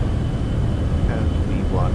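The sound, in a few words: Cessna Citation C750 jet engines at takeoff thrust, video game MSFS 2024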